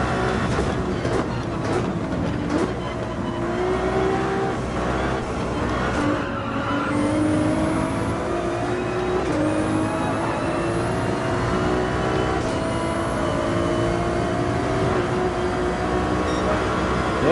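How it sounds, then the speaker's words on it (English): Ferrari 296 in the Gran Turismo 7 racing game on the Highway 1 track, its engine steadily loud and revving with rising and falling pitch sweeps and occasional tire squeal throughout, no talk. "Man, you can really rev up the 296 and have fun with the revs."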